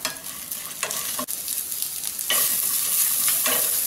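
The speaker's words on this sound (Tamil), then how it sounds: "முந்திரி பருப்பு, பொட்டுக்கடல கொஞ்சம் ரோஸ்ட் ஆகட்டும்" Cashews and roasted gram sizzle as they roast in a pan, a close, steady frying hiss with light stirring scrapes and clicks, growing louder toward the end, with no voices.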